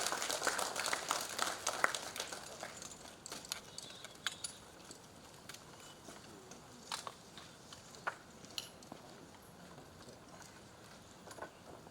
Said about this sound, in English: A round of applause as he comes to the podium.